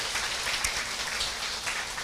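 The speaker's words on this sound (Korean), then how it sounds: "본인에게 큰 박수 한번 보내주시기 바라겠습니다." A seminar audience gives a round of applause, a soft, steady patter of clapping hands that stays fairly faint throughout.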